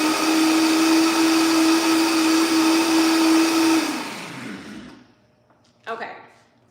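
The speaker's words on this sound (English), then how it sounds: "And now I'm just gonna blend it. So it's gonna get noisy for a second" A kitchen blender whirs loudly and steadily, blending a homemade Dutch baby batter for about four seconds, then spins down. A short voice follows after it stops.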